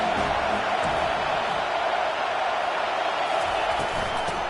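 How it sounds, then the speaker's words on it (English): A stadium crowd in the video game College Football 25 keeps up a dense, unbroken roar, loud and constant throughout. "This crowd bringing an ear-splitting welcome to their visitors."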